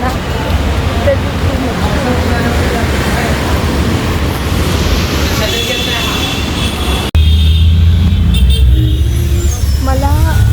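Busy Mumbai road traffic heard from a bus in the rain: a loud, steady engine and road rumble throughout, with a voice talking over it and a sharp change in tone partway through.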